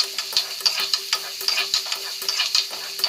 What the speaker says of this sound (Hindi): तेल टिके देकरी प्याज कैप्सिकम मरीच देकरी भाजी देखे